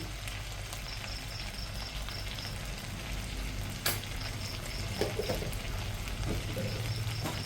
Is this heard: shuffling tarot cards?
no